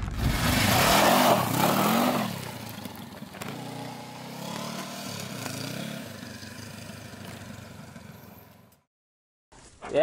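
A Honda CB500X adventure motorcycle rides along in Vietnam, its mid-pitched engine revving up loudly at first, then settling into a steadier drone with wind and road noise, cutting out briefly near the end.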